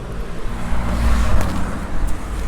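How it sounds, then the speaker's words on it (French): Dense road traffic runs along the Seine quays, a close, loud motor rumble with a car surging past midway and no speech over it. "je ne sais pas si vous entendez avec le micro, il y a beaucoup de circulation"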